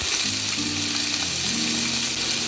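Potatoes go into hot oil in a pan while cooking a vegetarian pumpkin, potato and chickpea curry. A loud, steady sizzle and crackle continues close by, with faint stirring underneath and no talk.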